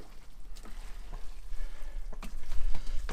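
A wooden spoon stirs Bolognese sauce through tagliatelle in a pan, soft wet squelching and scraping with a few sharper knocks against the pan, close and steady under a low background rumble.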